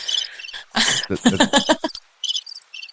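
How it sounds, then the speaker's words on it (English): Crickets chirping indoors or nearby, bright rapid pulsed trills in short bursts, loud and close, with brief gaps between phrases and no talk. "Crickets."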